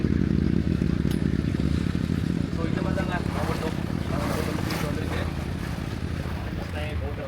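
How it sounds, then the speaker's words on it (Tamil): A boat moves along a backwater near Alappuzha, its steady engine drone and rushing water heard up close beneath wind noise while someone talks throughout. "அங்கே ஒரு போட் போயிட்டு இருக்கு பாருங்க"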